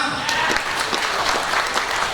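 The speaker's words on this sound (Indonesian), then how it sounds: "Tepuk tangan buat kita semua." A crowd applauds steadily for about two seconds at a regional election debate, the clapping dense and close, with a voice faintly audible underneath.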